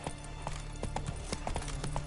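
Horse hooves clip-clopping in The Witcher 3: Wild Hunt, a steady trotting rhythm of close, regular hoof strikes over a low ambient rumble.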